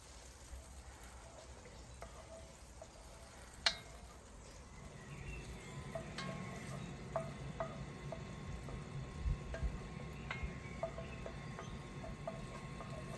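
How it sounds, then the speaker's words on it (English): Butter melts and bubbles in a hot pan as a roux base for a sauce, a soft sizzle that builds into faint crackling pops with no one talking. "So we just want that butter to melt down. As you can see, it's bubbling straight away."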